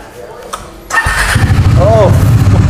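A serviced motorcycle with about 14,000 km on it sits silent under a voice, then its engine fires up close by and settles into a loud, throbbing idle.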